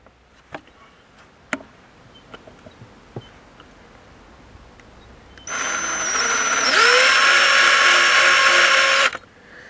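Scattered light taps and clicks, then a power drill spins up with a high whine, its pitch dipping briefly under load before it stops.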